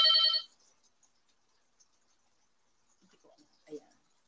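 A telephone gives a short, loud electronic ring right at the start, then stops. Faint, scattered voice sounds follow after a quiet gap.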